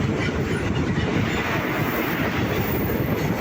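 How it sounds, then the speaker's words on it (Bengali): A freight train rolls across a large railway bridge near Digha, its loud, steady rumble and rhythmic wheel clatter close by and uninterrupted for the whole stretch, with no talking. "দেখো আবার একটা ট্রেন আসছে,"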